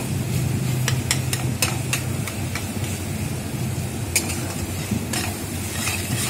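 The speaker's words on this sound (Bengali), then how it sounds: "এরপরে আবার একটু ভালোভাবে কষিয়ে নিচ্ছি।" Spices with turmeric and salt being sautéed in a pan for a fish curry, a low steady sizzle under a series of sharp metallic clicks and taps of a spoon against the pan, close, with no talking.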